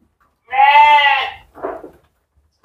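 A goat bleats loudly and close by on a farm where kids stay with their mothers, giving one long wavering call followed by a shorter, rougher one and the start of another.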